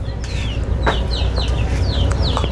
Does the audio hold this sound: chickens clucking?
yes